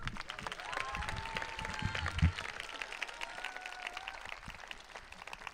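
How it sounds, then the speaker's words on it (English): An audience claps at a college closing ceremony, a soft, steady patter of applause with voices and cheering murmuring over it and a sharp thump partway through. "Another round of applause for Una, please."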